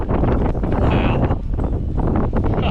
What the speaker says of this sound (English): I need to hold on to my hat because it's windy here